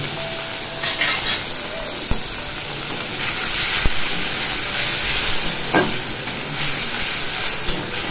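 Chopped onion fries in fish oil with a continuous close sizzle and hiss, broken by a few sharp knocks and stirring scrapes.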